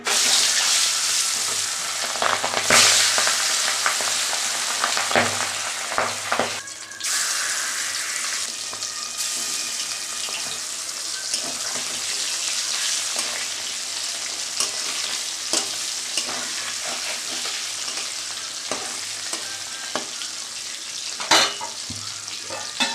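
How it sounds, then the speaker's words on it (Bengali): Boal fish dropped into hot oil for a Bengali kalia, a loud continuous sizzle and crackle close by that holds steady throughout, with a few sharper pops and no talking. "তেল গরম হয়ে গেছে আমি মাছটা এবার দিয়ে দেবো"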